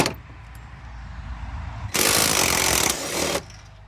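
A power tool, likely an impact gun, removes bolts on a Ford Focus with a vibration fault. A loud, harsh burst of rattling hammering runs close for about a second and a half amid faint workshop noise.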